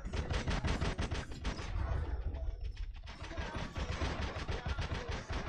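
Rapid robot gunfire in the War Robots video game, a fast continuous rattle of evenly spaced shots with a short lull in the middle, then resuming at the same steady rhythm.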